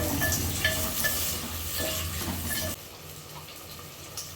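Capsicum, carrot and green chilli pieces frying in a pot for veg biryani, a soft steady sizzle with a few stirring scrapes and clinks, quieter near the end.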